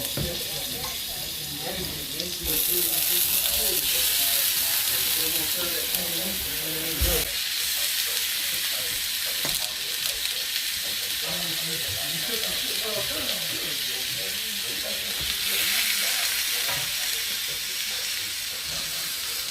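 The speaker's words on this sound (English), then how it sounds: "I'm going to put it in here and make sure everything's brown and get a little browning on my oxtail" Oxtail browning in a hot cast iron skillet, a steady close sizzle and hiss of searing meat with occasional shifting and scraping, while a person talks over it throughout.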